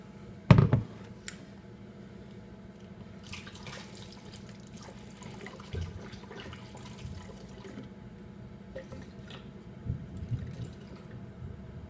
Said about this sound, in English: here we go with filling up my kombucha bottle